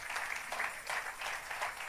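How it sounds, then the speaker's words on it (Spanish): A church congregation claps together in a steady, fairly even rhythm, the sound soft and somewhat distant, filling the room without any voices over it. "Fuerte las palmas a Él."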